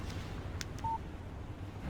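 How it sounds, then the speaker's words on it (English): A single short electronic beep from a phone text message alert in the video game Alan Wake sounds faintly over a quiet low hum. "Text message from Barry."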